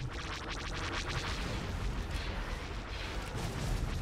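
Sustained dense weapons fire aimed at a space station in a Star Wars strategy game, Thrawn's Revenge, a continuous loud barrage of crackling blasts and low rumbling booms with no gaps.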